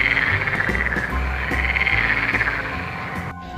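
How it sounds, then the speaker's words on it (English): A green frog croaks in a continuous, dense trill that pulses steadily and sounds close and loud, then cuts off abruptly near the end. "This is a frog,"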